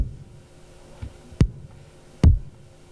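Kick drum built from four layered, separately pitch-shifted samples in a produced beat, with two deep thumping hits plus fainter softer ones over a low hum, alone without talk.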